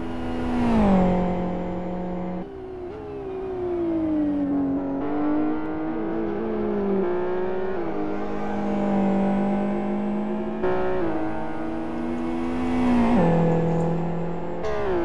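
A GT2 race car nears the finish line in 2012 GT2 World Series Round 5 qualifying at South City, its engine loud and close, screaming through rising revs with several sharp gear changes over a sustained run.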